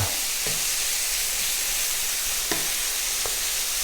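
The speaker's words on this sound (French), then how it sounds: "Bien colorer votre lard" Lard sizzles in a pan as it fries and browns, a loud, dense, steady hiss with a few faint clicks from the pan and no speech.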